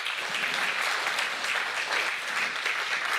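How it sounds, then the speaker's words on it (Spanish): A church congregation claps praise to the Lord during a Spanish-language sermon, a thick, continuous roar of many hands at even loudness throughout. "dele palmas al Señor"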